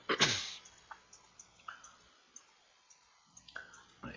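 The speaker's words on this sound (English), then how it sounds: "So you collect them manually just by clicking, click and hold, click and hold" Sharp mouse clicks, taken one at a time in an uneven rhythm, ring out clearly and close by while coal is gathered in the Roblox game Manufactory, with a louder burst of sound at the very beginning.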